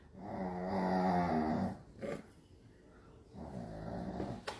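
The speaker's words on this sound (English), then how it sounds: "Other than the dog snoring." A dog snores nearby in a quiet room, giving two slow, rasping breaths separated by a short pause of near-silence.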